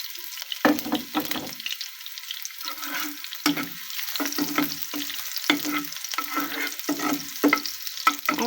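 Onion frying in a pan until browned, for a mashed vegetable dish, with a steady sizzle and repeated scraping stir strokes from a spatula, close and fairly loud, with no talking.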